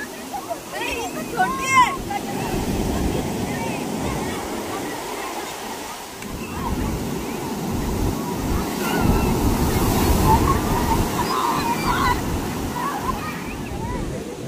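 Ocean waves at Arnala beach at high tide, a continuous rolling wash of surf with wind buffeting the microphone, with voices and a child's cries briefly heard near the start.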